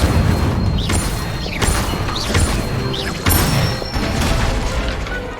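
Spell effects from a wizarding action game, with an Incendio fire charm among rapid casts: loud, dense booms and whooshing bursts repeat every second or so with crackling mechanical clatter over continuous game ambience.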